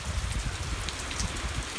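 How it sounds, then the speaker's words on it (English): Light rain has just begun falling on a warm night at a cattle farm, a soft, even patter of drops on surfaces, faint and continuous with no voices. "It just started, and it's a light rain."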